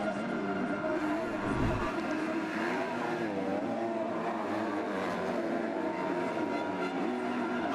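Motocross bikes in an MX2 race at the 2025 MXGP of France roar out of a corner in a dense, continuous wall of engine noise, several machines revving together at close range with no talk.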